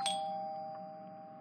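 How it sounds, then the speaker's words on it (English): A single doorbell chime rings out clearly and then hangs as a steady, fading tone in a quiet room. "that's the doorbell"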